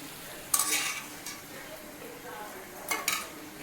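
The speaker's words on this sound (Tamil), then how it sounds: "இதேமாதிரி செஞ்சு வச்சிட்டோம்னா பொரியலுக்கு எதுவும் இல்லைன்னா டக்குன்னு இந்த மாதிரி பொரிச்சு எடுத்துக்கலாம்" Sago and rice vadagam crisps fry in hot oil with a soft, steady sizzle, broken by two sharper bursts of stirring and utensil scrapes near the start and end.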